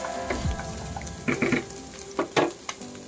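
Onion and garlic fry in a hot pan while spaghetti is being prepared, giving a steady close sizzle. Several short scraping stirs break through the frying.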